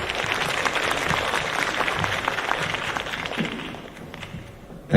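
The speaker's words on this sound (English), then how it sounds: "Another round of applause for Mr. Luino, please." A conference audience at a Taiwanese dermatology meeting claps steadily, a dense rain of hand claps that holds for several seconds before tapering slightly, ending with a sharp nearby thump.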